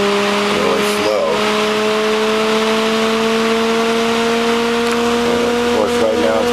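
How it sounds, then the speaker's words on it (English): A magnetically levitated Bedini/Cole style window motor spins up, giving a loud, steady whine of layered tones that climb slowly in pitch over a constant background rush. "it's like a turbine and it starts up really slow"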